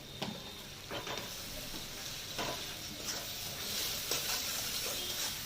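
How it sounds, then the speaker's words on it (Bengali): Spice paste with sugar is sautéed in a pan for an ash gourd and egg dish: a low, even sizzle broken by repeated scraping strokes of a spatula, fairly quiet throughout. "মশলাটাকে ভালো করে কষিয়ে নেব।"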